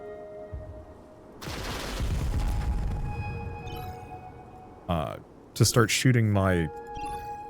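Video game gunfire in Heart of the Machine as landlords shoot the player's structures: a broad, rattling burst of shots early on, then quieter stretches where a voice talks over the game.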